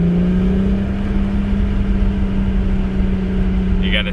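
Ram truck exhaust rasping off the gas, a steady, buzzy low drone heard from inside the cab, continuous for several seconds with a short higher whir near the end.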